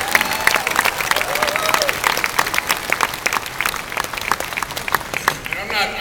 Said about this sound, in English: You give Dave another round of applause.